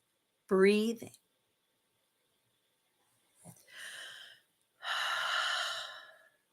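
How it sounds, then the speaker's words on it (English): A person draws deep, slow breaths in and out, a short voiced intake followed by two longer airy exhales separated by silence, close and unaccompanied. "I am breathing in deep, in and out."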